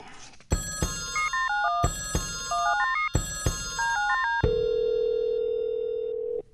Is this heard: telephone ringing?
yes